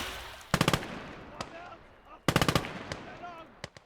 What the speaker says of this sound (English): I should probably jump on that MG